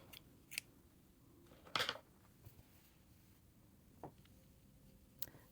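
Scissors snipping crochet yarn close by, a few sharp quiet clicks with one louder cut near the middle, against faint room noise and no talking.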